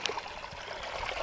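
Cow dung water poured onto farm soil, a faint, brief gurgling trickle of liquid splashing and running into the ground.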